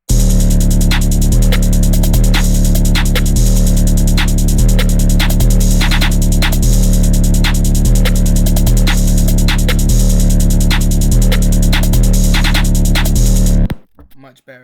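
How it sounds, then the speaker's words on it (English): A hard, heavily distorted FL Studio beat with wave shaper distortion pounds with a loud saturated bass drone and regular clipped percussive hits, cutting off abruptly near the end. "Add the wave shaper."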